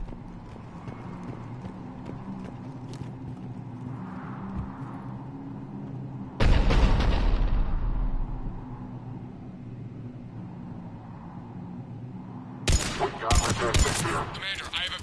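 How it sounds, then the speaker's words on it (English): Cannon fire and gunfire in the video game Mass Effect 3: two loud, heavy blasts with rattling bursts cut through a steady rumbling battle ambience, with no voices. "The cannon fire is clearing the way."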